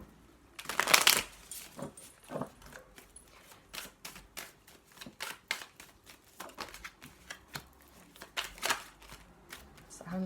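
Tarot deck being shuffled by hand, with crisp riffling card flutters and soft slaps repeating close up in uneven bursts, a quiet voice occasionally underneath.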